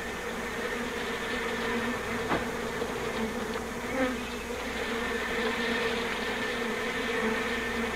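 A dense swarm of bees hums steadily at close range, a continuous droning buzz with little change in loudness.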